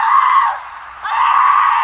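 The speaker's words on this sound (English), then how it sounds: "It was the sound of a woman screaming" A woman screams loudly and close, in two sustained, piercing bursts separated by a brief dip, with no talk over it.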